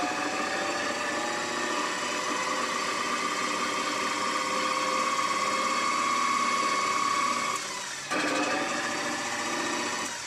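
A potter's wheel spins with wet clay on it, humming as a steady motor drone with a faint whirring tone, dipping briefly before resuming.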